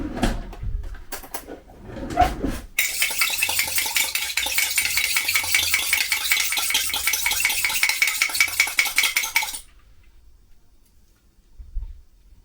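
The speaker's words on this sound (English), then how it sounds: "I am going to beat the egg first, just to ensure that we mix it equally." A whisk or fork beats an egg in a bowl for sweet shortcrust mince pie pastry, a fast steady run of close, bright clicking and tapping for several seconds, then stopping.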